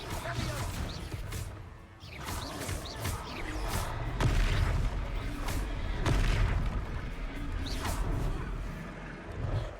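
Repeated booming blasts from the Confringo fire spell in the Hogwarts Legacy video game, several heavy explosive bursts with crashing impacts in quick succession, loud and close, over a dense battle din.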